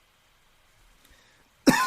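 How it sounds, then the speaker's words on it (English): A single sharp, loud cough bursts out close by after a near-silent stretch, ending the moment abruptly. "yes, folks, I just coughed"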